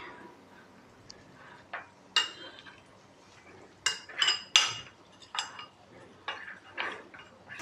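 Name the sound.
spoon stirring cornflour and milk in a bowl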